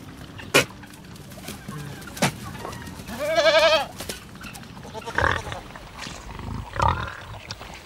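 A billy goat on a farm, courting a female in heat, gives several loud bleating calls, one long wavering bleat standing out among shorter cries and scattered knocks, with no talk.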